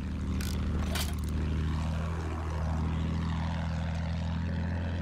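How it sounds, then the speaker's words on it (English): An enemy propeller airplane in Battlefield 1 drones steadily overhead, its engine pitch sweeping down and back up as it passes close by. "Feindflugzeug da oben!"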